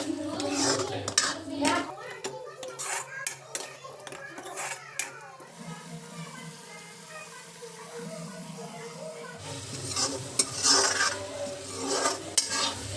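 A spoon scrapes and clanks repeatedly in a pot of fish bari curry with melted tomatoes and a little water, close and rhythmic, with speech heard in between.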